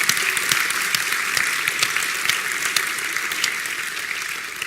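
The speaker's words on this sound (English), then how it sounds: "give them a clap" An audience at a mapping conference closing session claps for the AV crew, dense continuous applause with sharp individual claps standing out, steady and moderately loud throughout.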